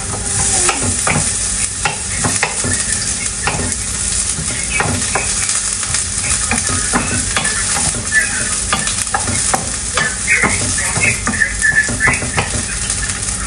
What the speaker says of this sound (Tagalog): So, magigisa na po tayo ng ang ating onions.